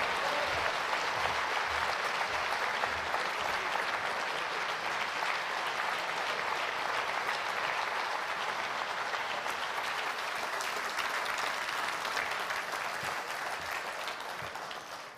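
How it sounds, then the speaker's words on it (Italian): Sustained audience applause at the 25th Pezcoller International Award ceremony for oncology research. Dense, even clapping continues for a long stretch and gradually thins toward the end. "Davvero applauso, applauso meritato, Jos Bernardi."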